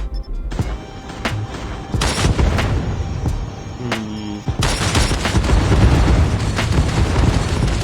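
A fighter jet in Call of Duty Mobile strafes with its guns, producing repeated heavy booms and bursts of gunfire over a dense roaring rumble, loud and close, with explosions thickening toward the end.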